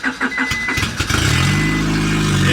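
A car that has sat parked for a while, fitted with a new battery, cranks briefly with a rapid rhythmic churn, then fires and settles into a loud, steady idle close by.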